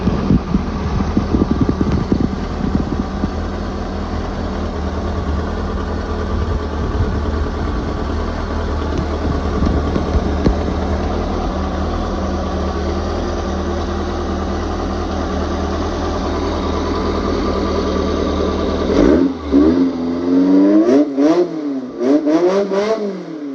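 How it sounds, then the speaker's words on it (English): A supercharged 2276cc VW Bug engine with a Brawler 650 double-pumper carb runs at a loud, steady idle close by, then revs up and down in several sharp blips near the end. "I'll put a clip of it running right here, but motor is dialed"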